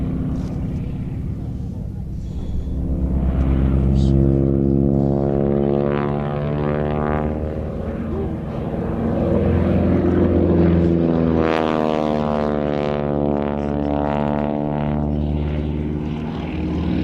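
A propeller biplane pulling up into a loop at an air show with a wing-walker lying between the wings, its engine droning loud and steady, rising and falling in pitch as it climbs and comes around.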